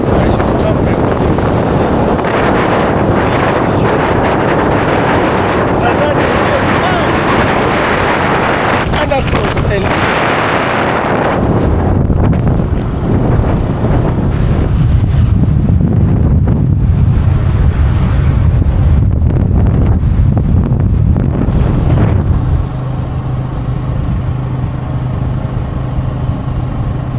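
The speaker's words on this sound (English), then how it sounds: "It's a bit windy" Heavy wind buffets the microphone throughout a night motorbike ride near the Kenya-Tanzania border, a loud continuous roar with engine drone underneath that eases slightly toward the end.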